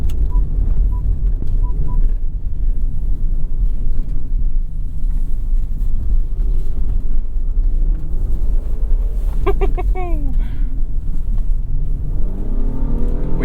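A Honda Passport TrailSport SUV with a 10-speed automatic drives off-road in sport mode. A steady engine rumble and road noise run loud and close the whole time, and a brief squealing whine comes in near the end.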